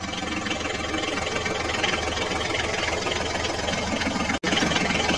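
A toy tractor engine runs with a continuous mid-pitched whirring drone and a slight knocking texture, broken by one brief dropout near the end.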